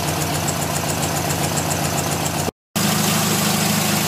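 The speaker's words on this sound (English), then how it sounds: "engine's running all right" A car engine fitted with twin SU HS6 carburettors idles steadily with an even, throbbing rhythm, close and moderately loud, briefly cutting out to silence before resuming.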